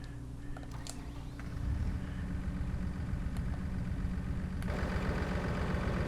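JCB tractor engine running, a steady low diesel drone close by that grows louder and keeps going, with faint clicks and knocks and no talk.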